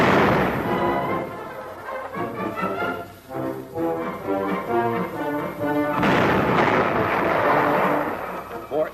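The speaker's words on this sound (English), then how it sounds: "The gun commander demonstrates manual firing." Main gun of a restored WWII U.S. Army M10 tank destroyer firing at Camp Hood, Texas, heard as loud, dense booming blasts and rumble that fill most of the stretch, with a brief lull midway.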